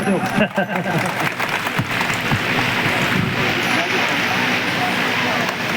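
Applause from a crowd at an annual village fair at a shrine in rural Punjab, steady clapping that runs for several seconds with background chatter and noise mixed in.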